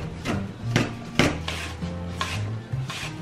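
Apples being grated by hand for an apple dessert, a rhythmic series of rasping scrapes repeating about once every half second, close and clear with no talking.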